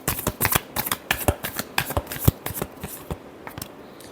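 Tarot cards are shuffled by hand in a quick run of crisp riffling snaps and slaps, close up, tapering off toward the end.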